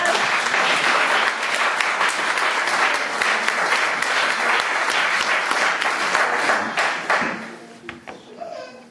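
A church congregation applauds during a worship service, dense sustained clapping that fills the room for about seven seconds before thinning into a few scattered claps.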